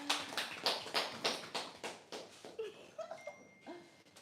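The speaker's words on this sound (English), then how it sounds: "A round of applause for her, please." Audience applause for a woman at a round-table session: a small group claps in a steady, evenly spaced rhythm that thins and fades, and a few voices speak near the end.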